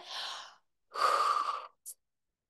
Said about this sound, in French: on baille.